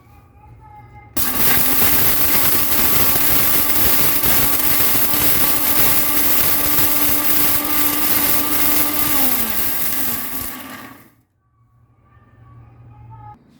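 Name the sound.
mixer grinder grinding Goan samarachi masala powder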